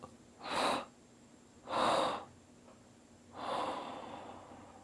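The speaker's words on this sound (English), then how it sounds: "we'll take a nice big inhale in, 3 exhales out" A person takes three deep breaths during a morning mindfulness exercise, each a long breathy rush of air, close and quiet, spaced a second or so apart with near-silence between.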